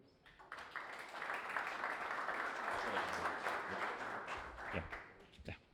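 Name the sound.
audience applause welcoming a speaker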